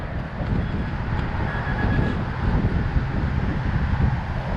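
Strong storm wind buffeting an outdoor microphone during metal detecting in Temescal, Oakland, a steady loud low roar and rumble with no clear pauses, continuous throughout.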